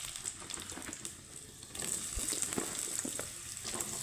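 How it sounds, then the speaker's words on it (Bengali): Pointed gourd (potol) frying in plenty of mustard oil in a wok, a faint, steady hiss of sizzling with scattered small pops and clinks, growing slightly louder partway through, no voices. "তো দিয়ে দিব এখন আমি পটল।"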